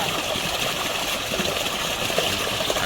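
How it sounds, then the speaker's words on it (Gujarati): Water from a running motor pump pours steadily into a container at a home in Gujarat, a continuous broadband gushing with no voices over it. "જો તો મોટર ચાલુ કરી દીધી ને પાણી ભરે છે."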